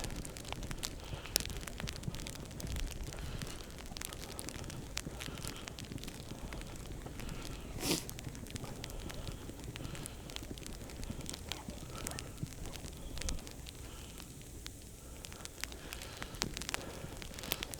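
Sleet falling during a snowstorm hike through a state park, a dense continuous hiss and patter around the walker, with wind noise buffeting the camera mic throughout.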